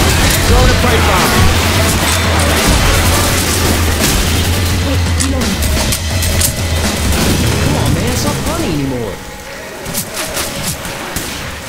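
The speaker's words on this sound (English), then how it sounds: "Throw the pipe bomb." Heavy, booming pipe bomb blast and rumbling aftermath in the zombie shooter Left 4 Dead 2, loud and close, rolling on for several seconds with other game noise and people talking over it.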